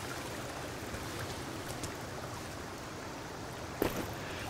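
A stream runs steadily in the Sons of the Forest game world, a broad even rushing hiss with one short sharp knock near the end, quiet and free of voices.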